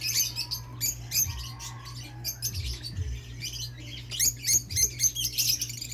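Pet lovebirds and parakeets in a cage, a breeding pair, give busy high chirps and tweets throughout, close by and steady, with no talk.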